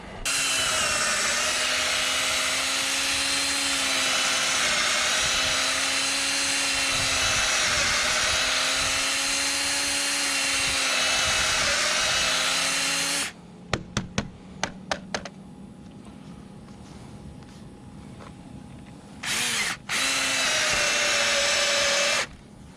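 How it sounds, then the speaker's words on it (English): A power drill whines loudly and steadily for several seconds while boring through wood, followed by quiet handling clicks and another short burst of drilling. "I'll drill in from both sides once I have a pilot going all the way through"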